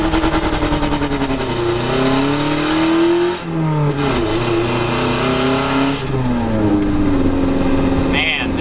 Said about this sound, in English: Let's see if it does a burnout.